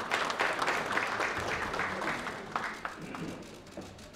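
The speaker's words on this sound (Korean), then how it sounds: "큰 박수로 환영해 주시기 바랍니다." Applause from a crowd at a political debate forum, a steady dense wash of clapping that fills the space for several seconds at moderate volume, with some voices mixed in.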